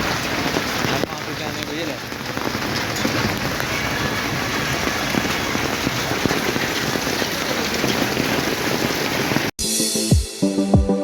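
Heavy night rain pours down in Kathmandu as a dense, steady hiss of drops on surfaces that holds loud for most of the stretch, then cuts off abruptly near the end into a few thuds and handling noises.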